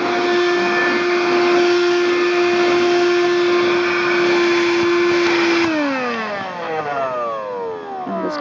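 A Vehemo 12V car vacuum cleaner hums with a steady high whine as it sucks up deep dust from a car door pocket, then the motor pitch drops as it winds down near the end.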